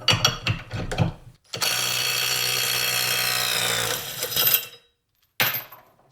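A Harbor Freight Hercules impact wrench set to 135 foot-pounds starts with a few sharp bursts, then runs in a loud, steady, close whir for about three seconds before stopping, with a short final burst after a pause.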